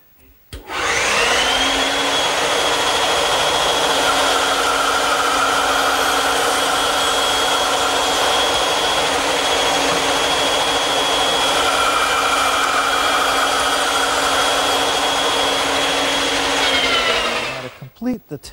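A powered saw cuts a wooden tenon for a standing mirror, a loud, steady, high-pitched whine that spools up, holds evenly through the cut and winds down at the end, with no talking.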